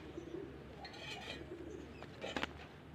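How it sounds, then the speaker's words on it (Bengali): Domestic desi pigeons give soft, low, repeated coos while being handled and coloured with paint. The coos are quiet and close, with faint rustling and a few brief sharper sounds. "কবুতরগুলো খুব অস্থির।"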